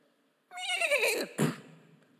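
A person imitates a horse's neigh, a short shrill whinny with a wavering, falling pitch followed by a brief snort, voiced alone in about two seconds.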